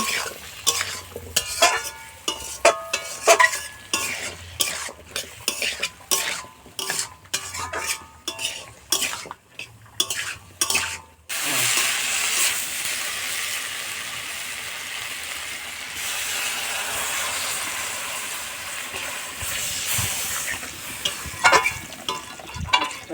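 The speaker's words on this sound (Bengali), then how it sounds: "এটাকে আমরা নাড়তে থাকবো ভালো করে" Potato, bottle gourd stems and fish curry stirred in a pan, a long run of rapid utensil scrapes and clanks over sizzling, then a steadier frying hiss with occasional clinks, close and without talk.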